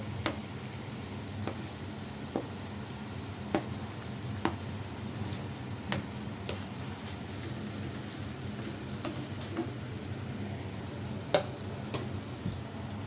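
Radish pieces for mula ghonto frying in a pan, a quiet, steady sizzle with scattered faint pops and occasional stirring clicks, continuous and close with no talking.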